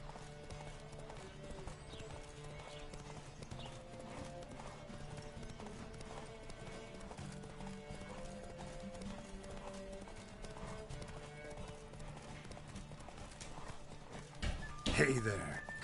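A horse's hooves clip-clop in a fast, steady gallop in The Witcher 3: Wild Hunt video game, fairly faint, with a louder burst near the end; voices can be heard faintly.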